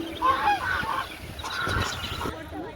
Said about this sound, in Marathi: आणि इथं बदक आहे बदक.